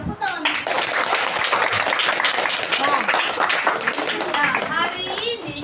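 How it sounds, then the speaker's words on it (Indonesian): A classroom of children clapping together, with dense, steady applause mixed with excited kids' voices and chatter throughout, loud and close. "Oke, tepuk tangan."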